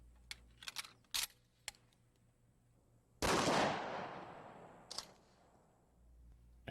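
A shotgun loaded with number 4 buckshot fires a single loud blast at an armored mannequin, its sharp report trailing off into a decaying echo, with faint clicks and handling noises before and after.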